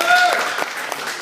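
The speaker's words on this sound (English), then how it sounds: "Let's give him a round of applause. Yeah, first, let's clap for Tyler." Audience applause for a preacher named Tyler in a church service, a brief burst of clapping that fades out within about a second, with talk mixed in.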